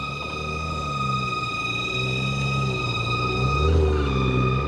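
A car engine idles roughly with an uneven, sputtering rev, a steady mechanical whine running over a low rumble, close by on a street in Harlem, New York City.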